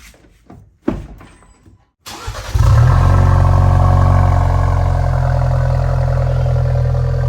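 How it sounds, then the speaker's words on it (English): A few faint clunks, then a 2021 Ford Bronco 2.3L with a Ford Performance Borla sport exhaust cranks and starts with a loud, deep exhaust roar that settles into a steady, throaty idle close by. "All right, Asher, are you gonna start the Bronco so we can hear the exhaust?"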